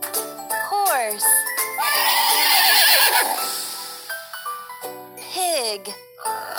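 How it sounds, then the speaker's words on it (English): A horse neighs in a children's animal puzzle game: loud, shrill whinnies with falling pitch sweeps, mixed with tinkling game chimes and a brief clip-clop flourish in the middle, repeated again near the end. "Horse."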